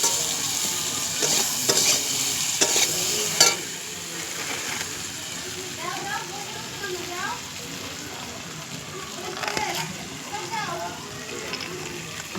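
Frying food sizzles in a pan while turmeric is stirred in, with scraping and clinking of the utensil against the pan. A voice talks over it in places.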